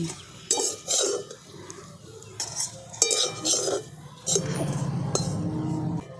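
Ghee-fried bread slices being lifted from a pan, with intermittent clinks and scrapes of a utensil against the metal pan in short bursts over a low background hum.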